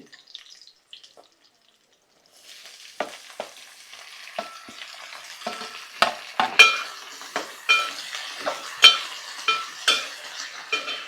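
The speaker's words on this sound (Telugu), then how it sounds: "ఆలుగడ్డ ముక్కలు వేస్తున్నానండి" Potato pieces drop into hot oil in a pan. After a brief quiet start, a steady sizzle builds, broken by regular, sharp stirring clicks and scrapes that grow louder toward the end.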